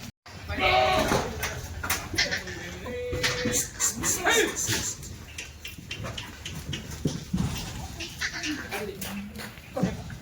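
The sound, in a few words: goat bleating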